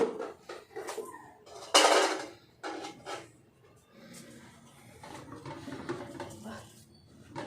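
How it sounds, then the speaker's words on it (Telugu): Metal stands clatter into a heated cooking pot during ragi biscuit baking, a loud clang near the start followed by lighter metallic knocks and scraping, close and alone. "ఈ గిన్నె మధ్యలోని ఈ స్టాండ్లు అయితే వేసేసుకుంటున్నాను."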